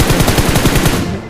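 A rapid burst of automatic gunfire from the BGMI mobile battle royale game, with evenly spaced shots rattling loudly and close before trailing off.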